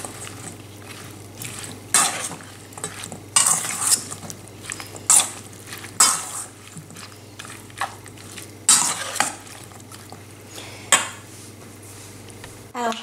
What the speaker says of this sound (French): je vais mélanger tout ça dans la petite sauce